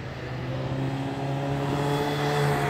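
Kawasaki Z800 motorcycles lap the Harz Ring race track during a cornering training session, a loud, steady engine drone with sustained tones that rise slightly toward the end.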